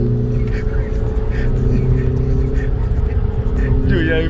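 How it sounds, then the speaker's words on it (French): A car engine fitted with a sport air filter drones steadily with a loud, continuous intake note and a low hum throughout, while people talk over it inside the car. "c'est le filtre à air sport là qui fait le bruit. Il fait ce bruit là"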